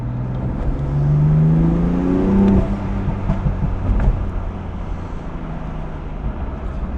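Stage 1 tuned BMW M4 accelerating hard, the engine note climbing in pitch through the rev range, then easing into a steadier drone as speed holds; loud and close, with no talk over it.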